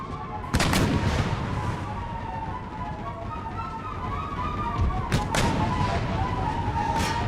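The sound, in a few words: 12-pounder cannon artillery fire in video game Empire: Total War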